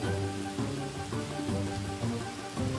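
Rain pours steadily in a mobile puzzle game, a dense continuous patter with a looping tonal game soundtrack underneath.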